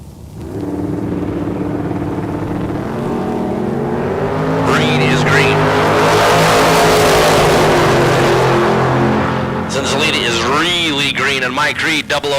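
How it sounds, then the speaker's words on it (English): Drag racing launch at a Southwest showdown: a Plymouth Roadrunner and a Dodge pickup truck idle with deep rumble, then engines roar hard and rev up loudly, with a track announcer talking over them. "Mike Reed out of Peoria, the Dodge pickup truck."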